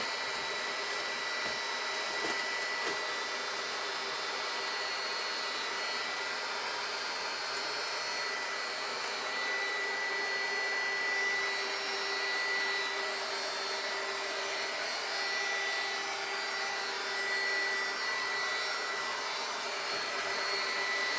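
A heat gun blows continuously on plastic shrink wrap around a large Easter basket, a steady close whooshing drone of hot air that holds level for the whole stretch with no pauses or talk.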